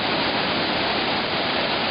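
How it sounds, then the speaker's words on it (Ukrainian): Roar of the Shesh waterfalls at the end of the cascade, a loud, steady broadband rush of falling water filling the whole stretch with no break. "Ось зараз ми підійшли, це вже кінець водоспадів."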